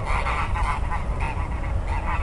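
A small flock of geese squawks and honks continuously at close range, harsh overlapping calls with no voices.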